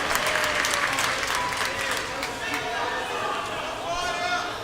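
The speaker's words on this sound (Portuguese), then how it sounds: "Toma seu assento aplaudindo a Jesus, porque Ele é bom" A church congregation applauds in a steady, dense clapping that holds throughout, fairly close and lively, with no talking over it.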